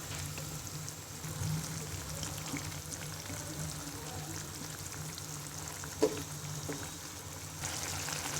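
Fried bata fish slides into a pan of cooked-down masala for a Bengali dopeaji, bringing a steady low sizzle and frying hiss with a brief clatter near the end.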